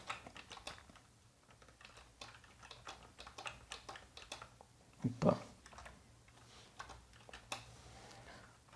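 Keys clatter on a computer keyboard in quick, uneven bursts of close, crisp taps, with one louder cluster of clicks partway through and short pauses between runs.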